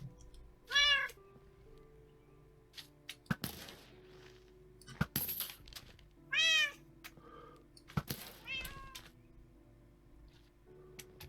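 A wither cat in modded Minecraft meows several times in short, rising calls with gaps between them, close and clear over quiet game ambience, with occasional clicks and thuds from the game.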